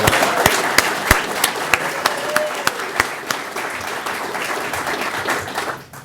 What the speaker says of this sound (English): That deserves a real loud round of applause